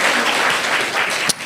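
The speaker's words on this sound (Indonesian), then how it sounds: "Tepuk tangan untuk Tuhan kita" A church congregation claps in a dense, loud burst of applause that fills the brief moment and ends in one sharp final clap.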